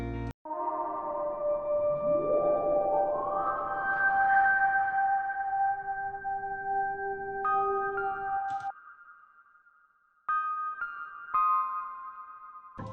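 Layered analog synth tones stack up: a rising sweep swells into sustained harmonic notes, then short accent notes step in and out over a held drone.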